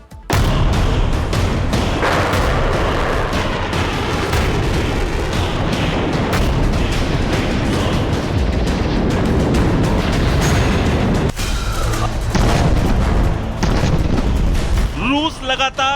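Missile strikes and explosions in Russia-Ukraine war footage: dense rumbling booms and blasts with crackling bursts, continuous and loud throughout.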